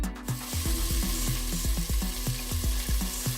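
Beef cubes for Haitian soup joumou searing in a hot pot give a steady, close sizzle that runs continuously with no talking, with a tonal melody sounding underneath.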